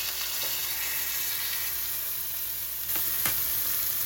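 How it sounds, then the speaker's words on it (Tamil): A ribeye steak sizzles in hot oil in an iron skillet, a steady bright frying hiss close by with a couple of louder crackles toward the end, no voices. "ஆயில் நல்லா சூடாயிடுச்சு. ஒரு டான்ஸ் யூஸ் பண்ணி ஒரு ஸ்டேக், இது ரிபாய் ஸ்டேக் போட்டுக்கலாம்."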